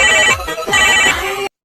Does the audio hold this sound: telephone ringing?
yes